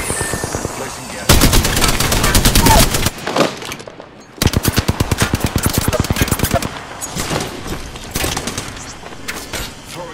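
Loud, rapid video game machine-gun fire rattles in long sustained bursts, pausing briefly around the middle before resuming in steady automatic volleys, with in-game voice callouts now and then.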